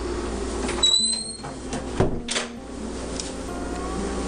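A small pantry cupboard door in an apartment kitchen opens with a short scrape and a soft knock, followed by a faint squeak, against steady room noise.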